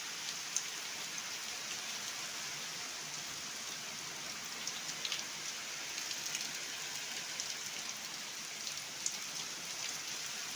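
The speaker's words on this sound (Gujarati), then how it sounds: "તો મિત્રો વરસાદ ચાલુ થઈ ગયો છે." Steady rain pours down over farm fields during the monsoon sowing season, a dense, even hiss with faint scattered drop ticks, heard alone and at a soft distance.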